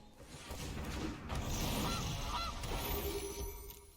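A goose honk triggered by a card in MTG Arena, two short nasal honks heard over a busy game-effect whoosh and rumble, fairly loud and close.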